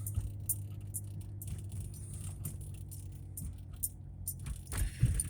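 A 2014 Dodge Charger driving in sport mode, heard from inside the cabin as a low steady engine and road drone beneath scattered jangling and rattling, with occasional thumps from rough pavement.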